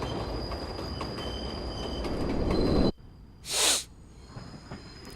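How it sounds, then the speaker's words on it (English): Moving train in the video game Spider-Man 2: a loud rumbling rush with a high metallic squeal that cuts off sharply, then a short hissing burst rises and fades over a quieter background. "Alright, so now I have to save Aunt May from the train."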